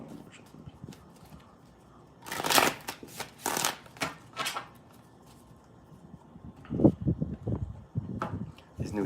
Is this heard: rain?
no